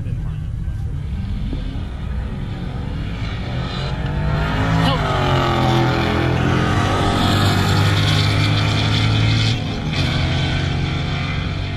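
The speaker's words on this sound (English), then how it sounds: "Let's see what this Mustang GT and Challenger, I believe RT, let's see how they're gonna go." A Ford Mustang GT and a Dodge Challenger Hellcat drag racing, a loud sustained engine roar with rising gear pulls across the run, and a voice talking over it.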